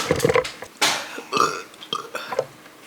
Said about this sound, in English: Those burps are coming out dangerously wet.